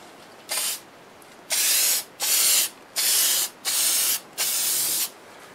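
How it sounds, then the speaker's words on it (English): Deft lacquer is sprayed from a can onto a wood turning in six short, close hissing bursts separated by brief pauses. "I'm going to use deft lacquer on it, and we're going to go ahead and spray a coat on"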